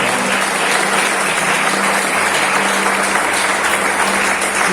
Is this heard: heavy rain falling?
no